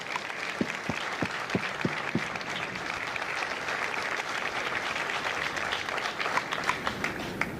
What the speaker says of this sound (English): Ladies and gentlemen, a round of applause for the Marines that make Marines, the drill instructors of Fatal Fox.